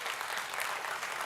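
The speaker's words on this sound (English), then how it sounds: "A big round of applause for Professor Ganesh." Applause fills a formal felicitation ceremony honoring Padma awardees as a professor is welcomed to speak, a dense, steady clapping from the audience with no voices over it.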